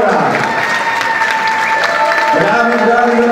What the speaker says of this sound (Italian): Applausi ancora.